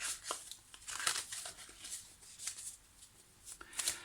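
Tarot cards are shuffled and drawn close by, with soft, irregular papery riffles and slides arriving in short bursts and no talking.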